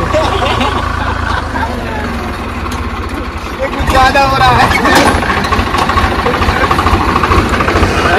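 A Swaraj 735 tractor, stuck fast, strains with a deep, throbbing diesel rumble that swells louder partway through while people talk over it.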